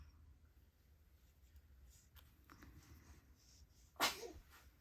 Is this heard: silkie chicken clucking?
no